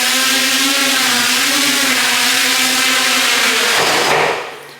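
A multirotor drone running a NAZA flight controller, a loud close whine of spinning propellers and motors holding a wavering, pulsing pitch as it oscillates at high throttle, then fading away at the end.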